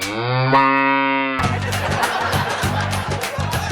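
A buffalo moo, used as a comedy sound effect, rings out loud and drawn out at the start. It then cuts abruptly into a burst of audience laughter and chatter.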